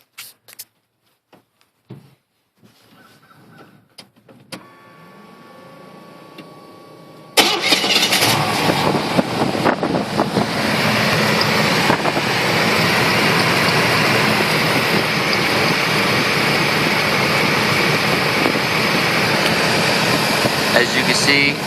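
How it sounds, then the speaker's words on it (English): A 1987 Chevy Silverado with true dual Flowmaster exhaust cold-starting: a few quiet clicks and a brief cranking, then the engine catches abruptly and settles into a loud, steady, rumbling idle. "And anyways, here's the cold startup."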